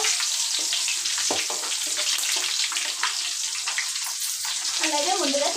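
Onions fry in a hot pan with steady broadband sizzling and occasional stirring scrapes, continuous and close, with no voices.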